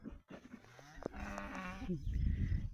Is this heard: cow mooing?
yes